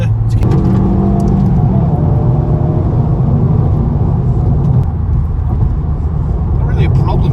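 A Honda Civic Type R FL5 accelerates hard while overtaking on the road, a loud sustained engine roar climbing through the revs inside the cabin, with a brief gear change early on.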